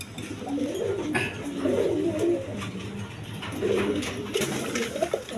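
Pigeons of various breeds coo steadily at a pigeon sale, soft repeated throaty calls overlapping in a continuous chorus at moderate loudness.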